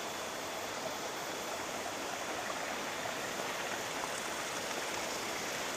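A small stream flows steadily near a historic Mataram kingdom site, a continuous broadband rush of water with no pauses, fairly close and even in level throughout, with no voices.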